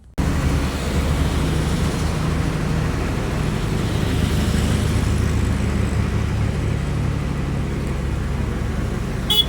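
Car travelling on a mountain ghat road: steady low engine and road rumble throughout, fairly loud and continuous, no talking.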